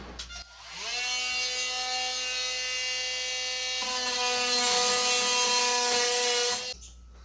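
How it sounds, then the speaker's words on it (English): An oscillating multi-tool cuts into a bathroom wall near a cast iron vent pipe, giving a loud, close, continuous high-pitched buzzing whine that shifts pitch slightly partway through and stops abruptly. "I'm gonna use this multi-tool to cut into the wall"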